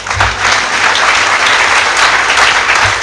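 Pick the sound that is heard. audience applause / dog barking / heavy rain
audience applause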